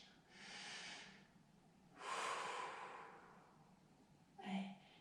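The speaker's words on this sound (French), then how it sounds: "On inspire, on prend 3 grandes inspirations. On inspire, on expire." Deep audible breaths during a gentle seated chair-exercise class: a long inhale, then a longer, louder exhale, followed by a shorter sharp intake of breath, all close to the mic with no talking.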